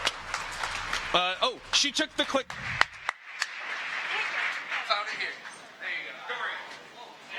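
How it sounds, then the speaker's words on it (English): Audience clapping at Startup World Cup Finland 2018, a live startup pitch event, rising under an announcer's voice and then continuing as broad, even applause from the crowd. "Big round of applause from Volt"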